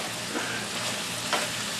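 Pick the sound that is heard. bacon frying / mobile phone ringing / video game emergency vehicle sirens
bacon frying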